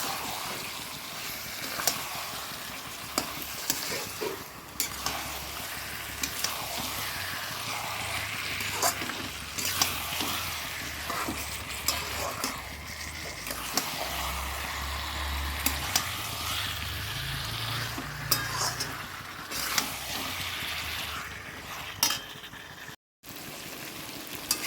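Chicken frying and being stirred in a pan with potatoes, a steady broadband sizzle under intermittent scrapes and clicks of the spoon, with a low rumbling hum running through the middle stretch.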